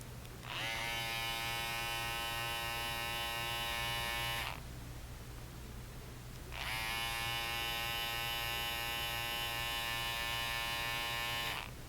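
An Andis cordless T-Outliner hair clipper buzzes in two long bursts, a steady bright electric whine switched on for about four seconds, off for two, then on again, close and alone.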